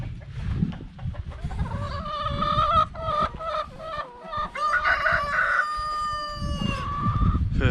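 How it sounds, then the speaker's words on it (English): Roosters crow repeatedly with long, rising calls over a steady background of clucking hens, fairly close and continuous throughout, in the Brecon Beacons countryside in spring. "chickens."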